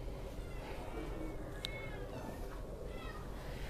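Cats meow at an animal shelter caring for nearly 90 dogs and cats, with a couple of short, moderately close meows over steady background noise and occasional voices.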